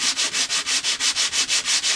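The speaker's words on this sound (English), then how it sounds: "I just got this really rough sandpaper out here" Rough sandpaper rasps back and forth across a rosewood bridge on a Gibson J40 acoustic guitar, about ten even, rhythmic strokes, loud and close with no voices.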